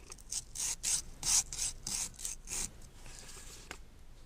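Sandpaper on a block rubs back and forth over a pistol's small trigger over-travel stop in quick, rhythmic rasping strokes, close up and fairly quiet.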